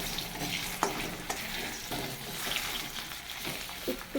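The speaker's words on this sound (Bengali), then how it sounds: "একটুখানি ভেজে নেব।" Small unpeeled potatoes fry with black cumin seeds in hot oil. A steady close sizzle runs throughout, broken by occasional scrapes and stirring clinks.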